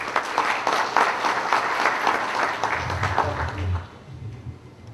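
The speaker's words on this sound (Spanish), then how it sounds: "solicito un fuerte aplauso de recepción al doctor Morales Parragués" A large formal audience applauds to welcome a judge to the podium at a judicial ceremony, a dense, sustained burst of clapping that fades toward the end.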